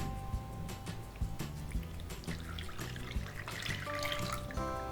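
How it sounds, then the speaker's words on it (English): Lukewarm water poured onto yeast in a bowl while making no-knead pizza dough, a steady close trickle and splash with a faucet-like running quality, heard alone without talk. "So now we add some lukewarm water to this yeast here."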